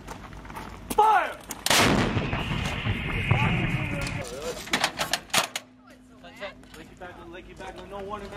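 Artillery in Afghanistan, HIMARS rockets and howitzers firing on Taliban positions, booms loudly in repeated heavy blasts with rumbling tails, while soldiers shout commands between the rounds.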